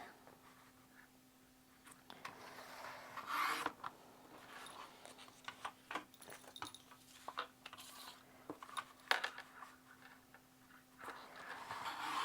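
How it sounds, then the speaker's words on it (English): Scissors cutting through three stacked sheets of patterned card paper at once: quiet, close snips and paper rustles in irregular bursts, each stroke ending in a crisp crunch. "Now with these 3, I'm going to see if I can cut them all at once."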